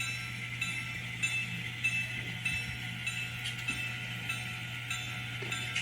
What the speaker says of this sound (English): Comes the train on track 7.